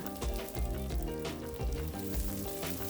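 Onions frying in a pan alongside bacon make a steady sizzle beneath prominent tonal background music, continuous for a few seconds with no talking.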